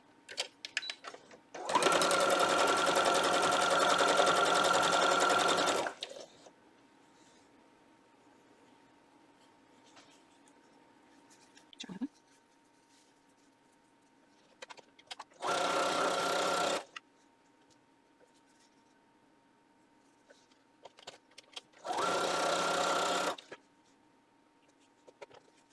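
A sewing machine joins yellow and red quilt pieces for a shattered-star quilt block in three separate runs: a long burst of about four seconds, then two shorter bursts, each loud and close with quiet pauses between.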